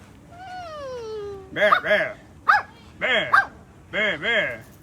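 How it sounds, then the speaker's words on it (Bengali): A dog at a Kuwait museum gives several loud, close yelping barks and whines in quick bursts, starting with a long falling whine before sharper repeated cries. "এই কুত্তা তুই এরকম চিল্লাস কেন"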